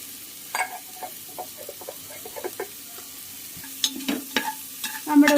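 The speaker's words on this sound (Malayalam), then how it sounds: "പകുതി സവോള സ്ലൈസ് ചെയ്ത് വെച്ചത്, അതൊന്ന് ഇളക്കുക" Half an onion, sliced, is stirred as it fries in a pan for vegetable rice: close, irregular scraping strokes of the spoon over a steady soft sizzle, growing busier toward the end.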